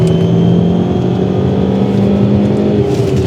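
A Ford Mondeo XR5 or BMW 130i engine drones steadily while driving, a loud, constant hum with no obvious revving changes and no voices present.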